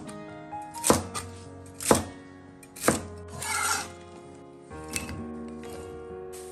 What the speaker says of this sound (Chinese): 芹菜这种粗的呢，给它一分为二